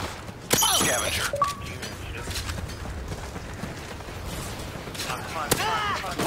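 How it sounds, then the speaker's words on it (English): Video game gunfire, with a sharp loud shot near the start and another burst near the end, plus a lower clatter of combat noise in between. "Why are you shooting me?"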